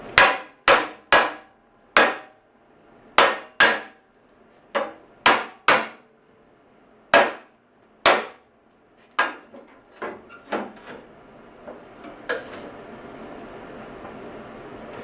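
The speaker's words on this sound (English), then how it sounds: "no job is complete without getting beat on with a hammer for a little bit" A hammer beats on a wooden piece to snug it into place while working on a Honda tractor, a dozen or so sharp, close knocks in uneven bursts, fading into smaller taps and rustling toward the end.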